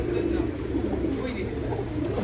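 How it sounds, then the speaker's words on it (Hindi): Pigeons eating together in a loft make low, continuous cooing that blends into a busy, rustling ambience close by. "सब खाना खा रहे हैं क्योंकि जस्ट खुले ही है कबूतर"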